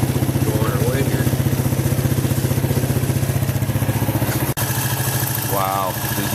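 A Suzuki quad ATV engine idles nearby with a steady, even rapid chugging pulse that continues throughout, with a brief break near the end and a voice speaking over it.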